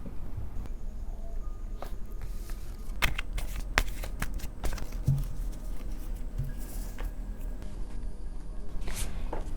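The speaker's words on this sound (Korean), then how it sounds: "이런 식으로 한번 카드를 뽑아보도록 할게요" Tarot cards are shuffled and drawn by hand during a relationship reading, giving soft close riffling, flicks and taps in an otherwise quiet room.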